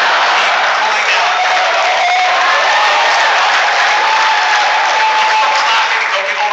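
A stand-up comedy crowd at C2E2 2012 claps loudly and continuously, a dense wash of applause with scattered cheers throughout.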